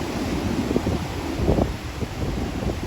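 Strong seaside wind buffets the microphone in a continuous rough roar, loud and close, with gusts swelling in the middle.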